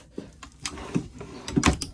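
A drawer in a 2017 Winnebago Travato camper van slides open and shut, giving a few short wooden knocks and rattles close by, with no voices.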